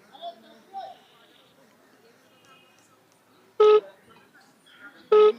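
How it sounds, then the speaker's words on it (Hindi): A phone call being dialed to a number in Nasik, India: two loud, close dial-tone beeps about a second and a half apart over faint background sound, with no ringing evident. "मैं मिला रहा हूँ नासिक फ़ोन।"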